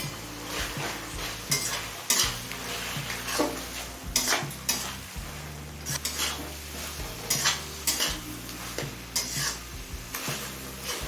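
Chicken pieces frying and being stirred in a pan with green chili, ginger and garlic paste, with steady sizzling broken by repeated scraping and clanks of a utensil against the pan, close and fairly loud.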